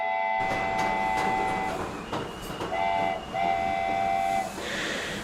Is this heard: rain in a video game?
no